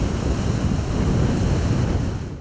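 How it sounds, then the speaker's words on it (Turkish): Storm-driven waves pound the sea beside a capsized 90-metre cargo ship on the Black Sea, heard as a loud, continuous roar of surf mixed with wind buffeting the microphone, with no voices. "Fırtına ve dalgalar sebebiyle gemiye yanaşamayan kurtarma ekipleri gemidekileri helikopter yardımıyla kurtardı."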